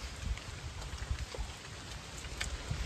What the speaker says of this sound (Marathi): पाऊस तर लागताच हा.